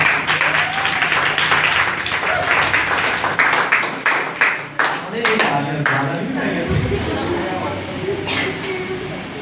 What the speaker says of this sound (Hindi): यही जोरदार तालियां हैं